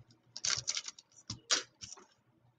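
A knife slices the top off a fold mountain model, making a few short close scratchy cutting strokes in irregular bursts over a quiet background.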